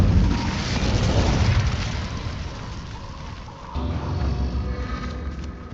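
Incendio fire spell cast in Hogwarts Legacy, a loud roaring whoosh of flame that surges, dips briefly, then swells again with a rumbling low body and no talk over it.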